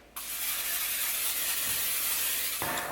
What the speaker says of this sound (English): I'm gonna throw this in a pan and get it nice and warm and browned